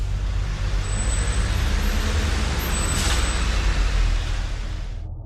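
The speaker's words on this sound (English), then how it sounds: "I was woken up by the sounds of the garbage truck" A garbage truck rumbles steadily close by on trash day, its deep engine drone filling the low end while a sharp hiss of air brakes rises midway, with high squeals at times.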